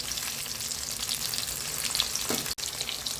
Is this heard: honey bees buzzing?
no